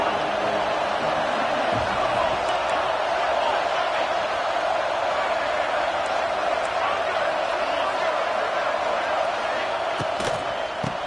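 A stadium crowd at an American football game roars steadily through a big third down, a dense, sustained wall of cheering heard from broadcast distance with a commentator talking over it.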